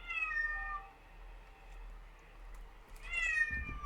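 A pregnant cat lets out two long, loud meows, one at the start and another near the end, with a quiet pause between them.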